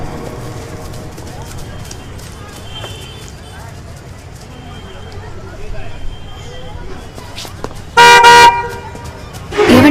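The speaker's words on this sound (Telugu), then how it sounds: "ఆగున్న కార్ నుంచి హార్న్ కొడతారు ఎందుకండి?" A car horn blares loudly in one sustained honk near the end and starts again at the very close, following a stretch of street ambience and a short toot.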